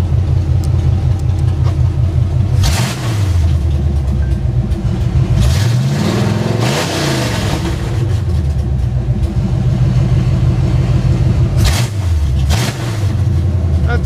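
A 1989 K5 Blazer running with open headers, a deep, loud, lumpy idle close by that swells into several brief revs and settles back between them, with passing traffic audible.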